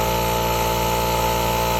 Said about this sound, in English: air compressor, hooking it up to the back